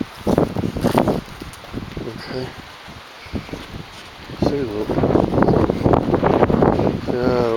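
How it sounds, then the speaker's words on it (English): Gusty wind buffets the microphone outdoors with a low rumbling roar while a person talks intermittently over it. "Get a little windy."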